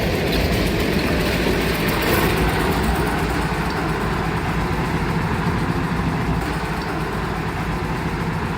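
The locomotives Hokuriku No. 9 and Skoma No. 5 rumble steadily along rails on a mud-covered track, a loud continuous engine drone with faint rhythmic clatter and no voices.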